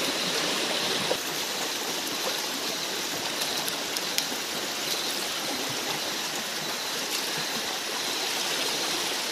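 Steady river water flows continuously at a spot where crabs are caught with jars, a broad even rush with a few faint clicks and no voices.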